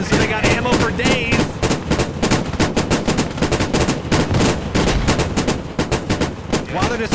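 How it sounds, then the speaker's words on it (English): Rapid bursts of autocannon fire from LAV armored vehicles in a tactical multiplayer war video game, dense and continuous for several seconds, with faint voices underneath. "oh my goodness, the autocannons"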